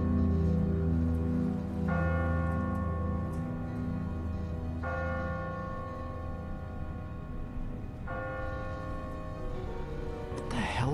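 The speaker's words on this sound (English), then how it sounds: "Ask not for whom the bell tolls." A bell tolls in a bell tower within The Walking Dead video game, with slow, evenly spaced ringing strikes over a steady low ambient background, fairly loud and without talk.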